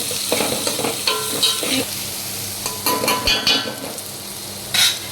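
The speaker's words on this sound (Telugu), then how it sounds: "అన్నీ బాగా కలుపుకోవాలి." Khichdi rice with salt is stirred in a pot, a spoon scraping and clattering in uneven bursts over a steady background hiss, close and fairly loud.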